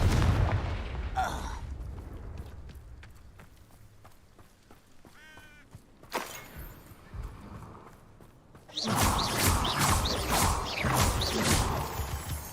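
A Confringo blasting spell explodes in the Hogwarts Legacy video game, a sharp burst that gives way to a loud, sustained crackling roar, with horse-like game noises and clicks before it.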